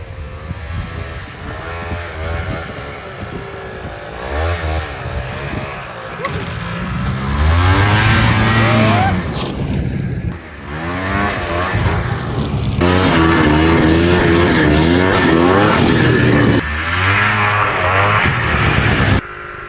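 A small 30-year-old Ski-Doo snowmobile engine runs steadily, revving up and settling back into a rough idle, with someone talking over it at times.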